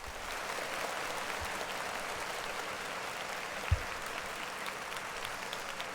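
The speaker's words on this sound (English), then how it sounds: "Clap it up for you peoples again." A crowd of people claps continuously at a Monday church service, a steady patter of applause with a single louder thump partway through.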